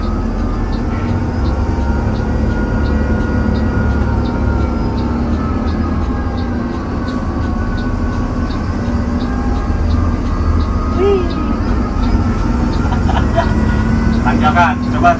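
A Mercedes-Benz 1623 tour bus with air suspension climbs a hill in third gear, its engine holding a steady, loud drone with road rumble throughout, while people talk inside the cabin.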